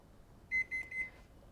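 A kitchen timer goes off while a pasta bake finishes cooking, giving a short run of three or four bright, evenly spaced electronic beeps before falling quiet.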